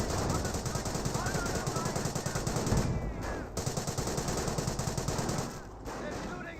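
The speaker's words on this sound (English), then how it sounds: "They're shooting at us." Machine gun fire in the Company of Heroes World War II strategy game, a continuous rapid rattle of bursts with distant booms, loud and steady, some speech faintly mixed in.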